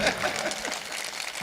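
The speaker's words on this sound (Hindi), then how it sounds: "इनके लिए एक बार ताली बजाएं" Audience at a mushaira poetry gathering at the Chaiti Mela in Gola Gokarannath claps in a brief burst of applause, a loud patter at the start that fades quickly into softer scattered clapping.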